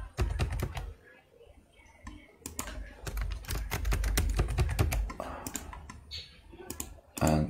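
Rapid clicking keystrokes on a computer keyboard as a password is entered during an online account signup, close and crisp, in uneven bursts with a few pauses.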